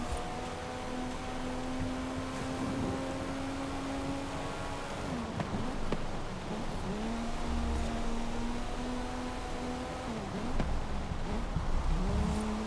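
Racing car in a road-racing video game, its engine holding a steady high whine, dipping and climbing again through gear changes and a drift, loud and continuous with no talk.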